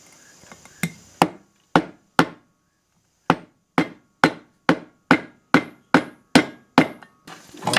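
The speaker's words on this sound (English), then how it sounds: "I like to use a rubber mallet" Rubber mallet tapping a crankshaft oil seal into a 5 HP Briggs engine: about a dozen sharp, close knocks with a brief pause partway through, then a quicker steady rhythm of evenly spaced taps.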